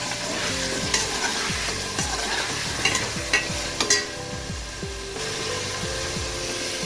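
Meat fries in a pan with a loud, steady sizzle, broken by regular scraping stirring strokes at close range. No talking.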